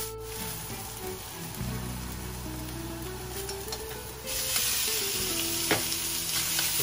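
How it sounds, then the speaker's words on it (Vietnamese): Crab noodle soup filling with plenty of onions is stir-fried in a hot pan, a steady close sizzle with scraping stirs, growing louder and brighter partway through. "bây giờ là mình sẽ xào nhân"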